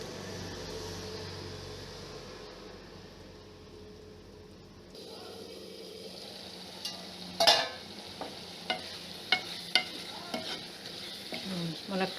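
Drumstick curry with onions simmers in a covered pot, giving a soft steady sizzle and bubbling, then sharper clinks and stirring taps in the second half, with no voices.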